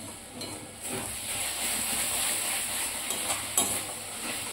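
Spice masala with salt and sugar fried and stirred in a pan, a steady close sizzle and hiss with occasional soft scrapes of the spatula, no voices.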